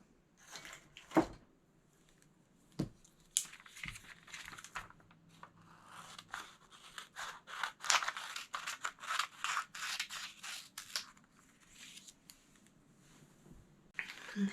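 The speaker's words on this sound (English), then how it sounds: "nothing is stopping you from trimming this up" Scissors trim a sheet of paper, giving a run of close, crisp snips with papery rustling and crinkling between cuts. Nobody speaks.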